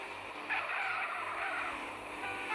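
Tires squeal and skid as a car is parked in GTA San Andreas, played on a Galaxy S20 phone, a loud continuous screech lasting a few seconds with no talk over it.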